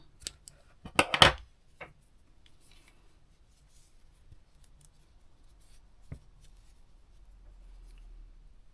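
Scissors snip through a strand of crochet yarn in one brief, close cluster of cuts, followed by near silence with only faint handling noise.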